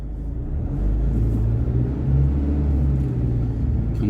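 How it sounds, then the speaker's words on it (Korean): A police car passing on a road in Germany makes a steady, loud, close rumble of engine and tyres with no siren, holding throughout with no voices. "경찰차가 무슨 급한 일이 있나 봅니다."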